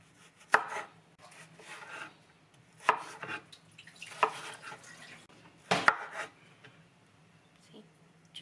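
A knife scraping seeds out of a cucumber on a cutting board for shrimp ceviche, with four sharp, separate scraping strokes spaced a second or so apart, close and fairly loud over a quiet room.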